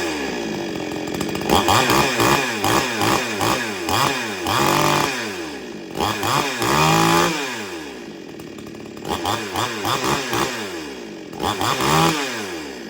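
A Salem Master Pro 6220H chainsaw running up close, repeatedly revving to a loud scream and dropping back to idle, several rhythmic throttle bursts in sequence.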